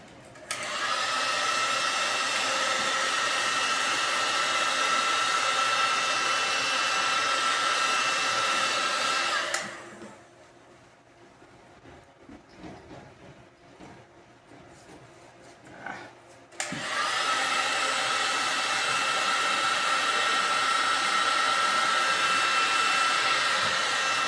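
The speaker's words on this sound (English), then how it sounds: "You can use a hairdryer." A hair dryer blows loudly and steadily, cuts off for several seconds of quiet handling noise, then switches back on at full roar.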